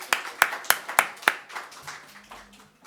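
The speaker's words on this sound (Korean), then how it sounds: "박수!" A small church gathering claps for a young child who has just read a Bible verse: a few sharp, separate claps, then softer scattered clapping that fades, with a voice speaking faintly near the end.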